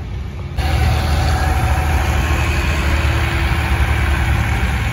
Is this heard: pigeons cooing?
no